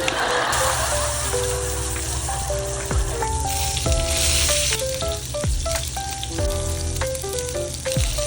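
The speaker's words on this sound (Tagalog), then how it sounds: "At habang ginigrill mo ang pork chop" Pork chop sizzling on a grill: continuous crackling sizzle with popping spatters, loud and close, carrying a faint plucked melody underneath and no talking.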